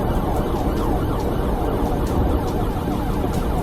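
Police car sirens wail during a chase, blending into a dense, continuous wash of road and engine noise that stays loud and steady throughout.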